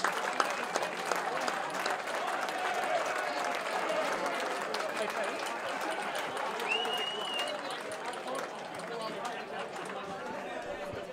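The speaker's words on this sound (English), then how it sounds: "a great crowd here are giving their appreciative support to the Payneham side" A crowd at a Payneham versus Port District Division 1 qualifying final football match claps in steady, moderately distant applause with crowd chatter, while a commentator talks over it.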